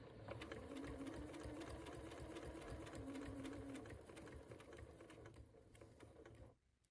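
A sewing machine runs steadily, stitching quilt pieces for a rocky star quilt, its needle clattering in a fast even rhythm close by before slowing and stopping at the end.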